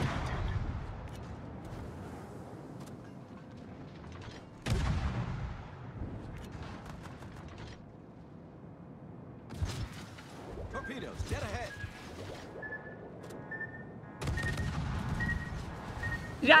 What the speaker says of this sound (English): We're gonna fire some cannons right away, boys.